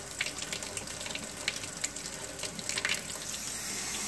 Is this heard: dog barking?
no